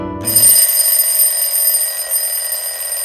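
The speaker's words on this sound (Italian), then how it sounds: "la sveglia mi ha riportato alla vita normale" An alarm clock rings loudly and continuously with a steady, bright electronic tone that starts almost at once and holds unchanged to the end, with no voices.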